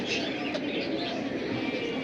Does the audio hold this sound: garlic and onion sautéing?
no